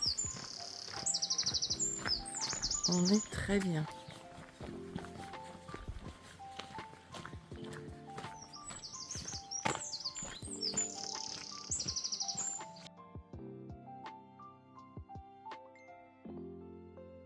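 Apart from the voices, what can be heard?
birds chirping in the countryside near Fonfría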